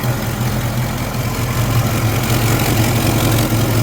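A car engine idles loudly and steadily with a small exhaust header leak, its low rumble pulsing evenly, close up and alone.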